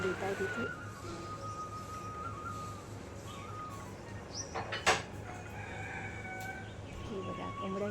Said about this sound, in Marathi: हे बघा कोंबड्यांची मस्तपैकी हाक सुद्धा आपल्याला ऐकायला येते.